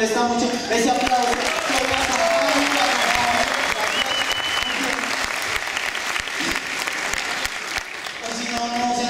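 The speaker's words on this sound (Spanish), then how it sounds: "No, no dejen morir ese aplauso, me molesta mucho ese aplauso" A stand-up comedy audience claps loudly and continuously, a dense sustained round of applause from a crowd with cheers and a voice speaking over it.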